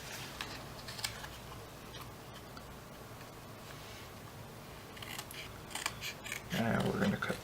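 Scissors snipping down the middle of a paper piece for a 3D papercraft Koopa Troopa leg, soft repeated close cuts with crinkly paper rustle, a slightly louder handling burst near the end.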